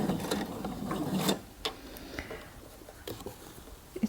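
A domestic sewing machine stitching fabric under its presser foot runs with a close mechanical whirr that stops after about a second, followed by scattered small clicks and taps of the mechanism.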